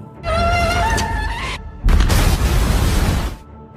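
A loud, rumbling explosion inside a warehouse bursts out after a high whining tone, a dense roar that lasts over a second before cutting off.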